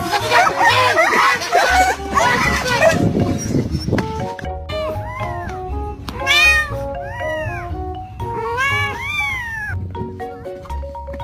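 A cat yowls and meows loudly in a scuffle with a dog, giving a run of rising and falling cries and screeches. Excited voices overlap the noisy start.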